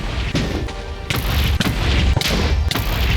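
End crystals explode one after another in Minecraft while a dragon fight goes on, about five sharp booming blasts spaced through the short stretch, loud and punchy over a constant game background.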